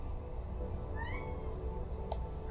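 A cat meows in The Hundred Line: Last Defense Academy, a short rising mew set over steady background game ambience, followed by a couple of faint higher chirps.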